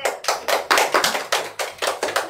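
Hands clap in a steady rhythm, about ten crisp claps at close range, each sharp and evenly spaced with no voices over them.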